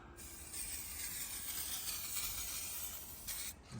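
Spray can of clear coat nearly empty while painting a car in the street, a continuous faint hissing spray with slight sputter, cutting off briefly near the end.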